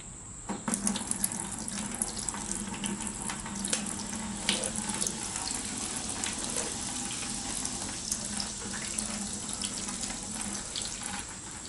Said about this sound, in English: I'm going to be using a small piece of plastic hose and just siphoning that out.